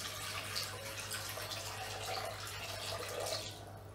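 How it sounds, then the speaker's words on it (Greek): Room-temperature water runs steadily from a kitchen tap into a bowl set on a scale, a faint continuous splashing stream that tapers off at the end, with no talk over it. "το νεράκι μου το παίρνω στη θερμοκρασία δωματίου, κατευθείαν από την βρύση"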